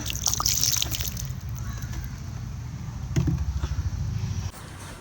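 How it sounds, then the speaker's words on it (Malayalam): Water poured onto a newly planted tomato seedling in a terrace garden trickles and splashes steadily, close by, with a brief pause and a few faint knocks. "വെള്ളവും കൂടെ ഒഴിച്ചു കൊടുക്കാം"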